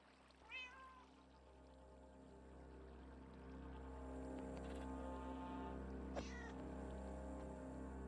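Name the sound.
cat meowing after being hurt, from Minecraft video game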